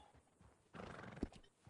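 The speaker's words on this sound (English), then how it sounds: "There, a horse is freaking out." A horse in the Red Dead Online game whinnies loudly once over a short burst of agitated movement, close and clear, with no talking.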